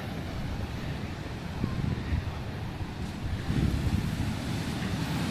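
Ocean waves wash against the Irish coast with a low, continuous rumble and gusty wind buffeting the microphone, a few stronger surges swelling through the steady roar.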